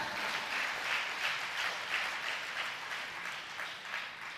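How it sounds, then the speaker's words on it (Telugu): A church congregation claps loudly during a Christian sermon, a steady, dense wash of applause with slight swells that carries on without a break and with no voices on top. "కొట్టు చప్పట్లు గట్టిగా కొట్టాల."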